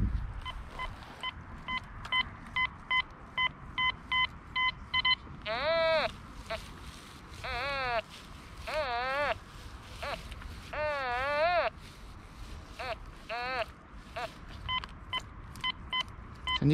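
A metal detector passes over a buried find outdoors in a former soldiers' shelter. Its tones rise and fall in repeated warbling sweeps, with short beeps before and after, over quiet background noise.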